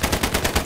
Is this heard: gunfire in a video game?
yes